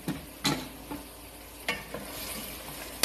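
Chicken pieces being mixed by hand or spoon with corn flour, flour and eggs, producing a handful of close, soft, wet scraping and squelching strokes at an uneven pace, with no one speaking.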